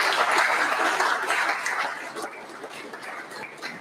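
Audience applause at a motivational seminar: a dense wash of clapping, loud at first and thinning out over the last two seconds, with no speech.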